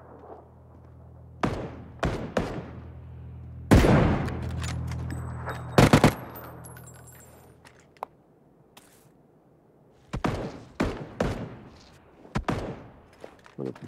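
Video game gunfire cracks in sharp bursts: a few single shots early, a heavy volley near the middle, then a scattered run of rapid shots toward the end, loud against a quiet background.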